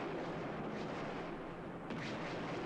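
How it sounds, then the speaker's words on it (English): Explosions from a Doctor Who episode, Destiny of the Daleks, heard as a dense, continuous rumbling roar of blasts and gunfire-like bursts, loud and steady throughout with a sharper burst near the end. "Yeah, there's a lot of explosions."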